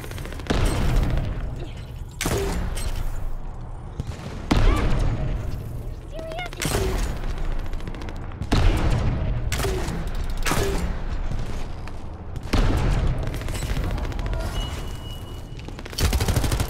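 A heavy weapon fires over and over in the looter-shooter game The First Descendant, with loud booming bursts every second or two among battle noise and someone talking now and then.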